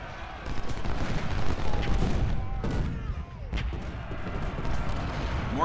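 Musket volleys and cannon fire against infantry ring out in the Civil War strategy game Ultimate General: Civil War, a dense, rolling crackle of shots with sharper booms throughout.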